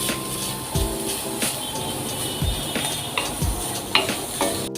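Suji rava dry-roasting in a pan for laddu, with a continuous soft sizzle under repeated scraping strokes and clinks of a spoon against the metal, close and steady.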